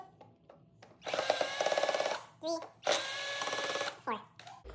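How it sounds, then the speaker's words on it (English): A power drill with a Phillips bit backs screws out of a Rollplay Turnado 24-volt electric bike, two sustained whirring bursts of several seconds each, close and loud, with short quiet gaps and brief talk in between. "Then we remove these 4 screws with a Phillips bit."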